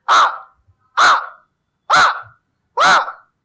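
A person imitating a crow's caw as part of a yoga exercise, pressing the forehead lightly: four loud, harsh, nasal caws, close and evenly spaced about a second apart with silence between.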